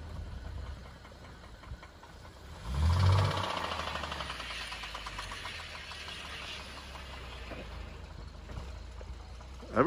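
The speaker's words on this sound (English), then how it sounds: "you can hear the noise in the engine" A Chevy Traverse engine with a fault noise runs steadily with a rough, knocking idle, swelling louder for a couple of seconds early on before settling back to a constant mid-level drone.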